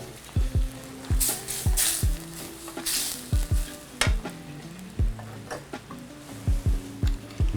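A spoon stirs a seasoned mixture of paprika and fresh cracked black pepper in a pan, with repeated sharp scraping knocks in an uneven rhythm over a light sizzle, close and fairly clear.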